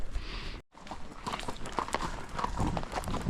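Horse hooves clip-clop along a mountain trail at a steady walking rhythm, close and clear, with scattered clatters of shod hooves on stone and a brief dropout near the start.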